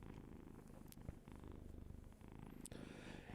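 A cat purrs steadily and close to the microphone, a low rhythmic rumble throbbing in even pulses, with a couple of small bumps and rustles mixed in.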